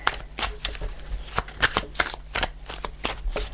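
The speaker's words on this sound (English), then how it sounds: "I need to shuffle again." Tarot cards being shuffled by hand, a continuous close riffling and flicking of card stock with rapid soft slaps, heard alone.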